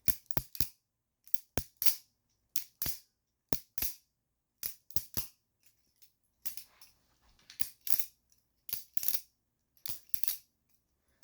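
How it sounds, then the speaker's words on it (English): A titanium Arena Accessories XL Utility balisong being flipped, sharp metallic clacks in quick pairs and clusters, close and crisp with short silent gaps between. "And this one doesn't sound too bad either. It's got a nice clack."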